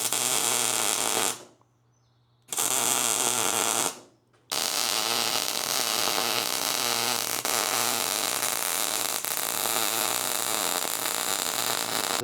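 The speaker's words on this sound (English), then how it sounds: "I'm going to tack weld here, tack weld up there, and then burn them in." Steel suspension mounts being tack welded on a Tacoma solid axle swap: loud, steady crackling and hissing welding bursts close up, broken by two short pauses before one long continuous run.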